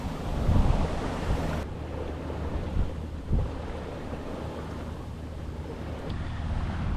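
Out on the open sea during a warm, breezy sailing day, steady wind buffets the microphone while waves wash and slap against the boat in irregular surges, with no one talking.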